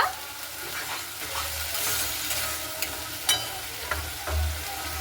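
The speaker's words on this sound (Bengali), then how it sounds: "এবার লবণ আর হলুদটাকে দিয়ে খুব ভালো মতো করে কষে নেব" Salt and turmeric fry in a pan for Bengali rui fish curry, making a close, continuous sizzle broken by several sharp scrapes and taps of a stirring spoon, with no voices.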